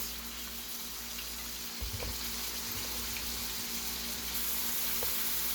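Steaks sizzle in a pan after being turned over for Steak Diane, giving a faint, steady hiss with a low background hum and a brief clunk near the middle, no voice heard.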